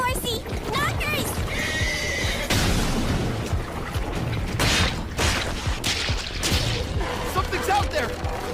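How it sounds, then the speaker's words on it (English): A horse neighs and whinnies in an anime scene, with hooves clip-clopping amid loud, busy action sounds and voices talking over the commotion. "Was that a girl on horseback?"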